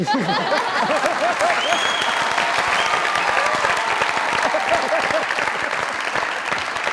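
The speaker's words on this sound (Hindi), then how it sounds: "जोरदार ताली।" Loud, sustained applause from a large studio audience at a comedy talk show, dense clapping filling the whole stretch without pause.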